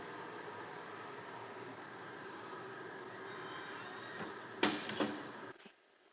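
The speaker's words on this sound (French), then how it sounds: "Il me reste à alimenter la pièce, démarrer la machine." Machine tool powering up in an aluminium machining setup: a steady broadband mechanical hum and hiss, rising slightly before a sharp clunk and bursts of noise near the end, then quickly dropping away.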